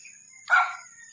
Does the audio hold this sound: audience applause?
no